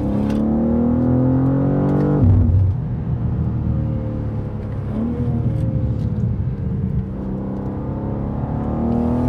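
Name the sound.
BMW M2 2023 engine at near full throttle in a corner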